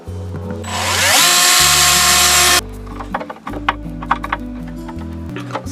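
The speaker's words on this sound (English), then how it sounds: "So I'm going to drill the holes first for that." A power drill whines loudly at high speed for a couple of seconds, then bites into wood with lower grinding and clunking as it slows, drilling holes in a cupboard door.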